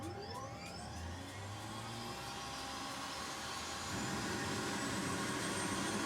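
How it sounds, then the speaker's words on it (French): Simulated turbine whine from the left engine of an EC135 EMS helicopter in X-Plane 11 spooling up at idle, a steady rising whir with tonal lines that grows slightly louder partway through, with no talk. "on va allumer le premier moteur à gauche en idle pour le préchauffage"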